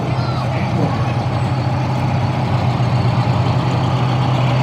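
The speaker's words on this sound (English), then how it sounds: "It's a 1983 Han Custom Pumper." A 1983 Hahn custom pumper fire engine idles during a Fourth of July parade in Rock Hall, giving a loud, close, steady low diesel rumble that holds throughout, with faint crowd voices underneath.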